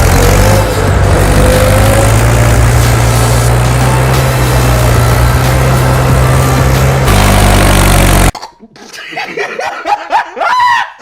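A tractor engine drones loud and close as it labours in soft soil, steady for several seconds before stopping abruptly, followed by people laughing and talking.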